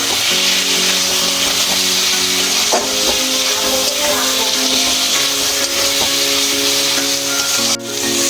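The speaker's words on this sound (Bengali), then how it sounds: "এবার ভালো করে কষিয়ে নেবো মশলাটা আমি" Spice masala sautéed in a pan for mutton curry, a loud, continuous frying sizzle close up with occasional spatula scrapes and knocks against the pan, and no talk.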